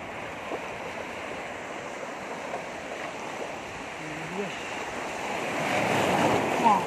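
Ocean waves wash steadily onto a beach at a tourist shoreline while fishing nets are worked, a continuous surf roar mixed with wind noise that swells slightly louder toward the end.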